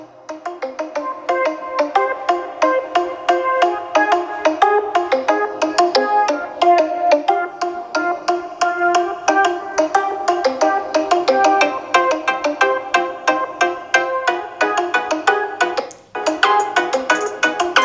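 A Redmi Note 10 Pro Max phone plays music through its front and back stereo speakers, a steady tuneful melody with a rhythmic beat at close range, briefly cutting out near the end, with no talking.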